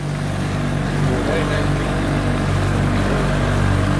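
A motorboat accelerates on open water near Miami at night, its engine a loud, steady roar with rushing wash and wind noise throughout and no break.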